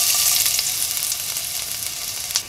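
Finely chopped garlic and ginger fry in hot coconut oil, giving a loud, steady, close-up sizzle with a few brief crackles and no voices.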